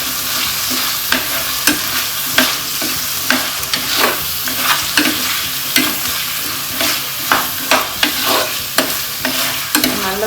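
Chopped taro (colocasia) being sautéed in fish curry masala, with a steady sizzle and regular spoon scrapes against the pan roughly every half second, close and fairly loud, no talking.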